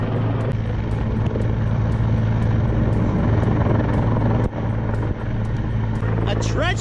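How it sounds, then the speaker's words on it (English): RACQ LifeFlight rescue helicopter at Mt Cooroora, its steady low rotor and engine drone loud and continuous throughout while people talk nearby. "The chopper's in at the moment."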